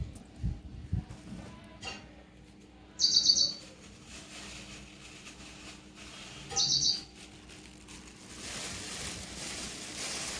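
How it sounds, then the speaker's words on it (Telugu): A bird gives two short, bright chirping bursts a few seconds apart, close and fairly clear over a quiet background with faint knocks. "లక్ష్మీదేవి అనగానే పిట్ట కిచకిచ అంటుంది."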